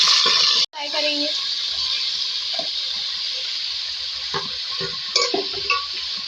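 Broad beans (sem) frying in oil for an aloo sem sabzi: a steady broadband sizzle runs throughout after a brief cut near the start, with occasional stirring clicks and a few faint voice fragments underneath.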